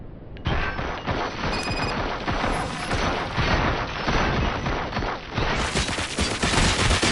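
Sustained heavy gunfire from the RoboCop: Rogue City video game, a dense, loud barrage of overlapping shots and booms that runs almost nonstop for about seven seconds after a brief quiet start.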